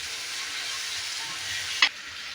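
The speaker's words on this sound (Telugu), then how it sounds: "చికెన్ ఇలా బాగా ఫ్రై అయితే ఆయిల్ బాగా పైకి తేలుతుంది కదా." Chicken frying in oil in a pan for a gongura chicken curry, a steady close sizzle with a brief sharp clink near the end.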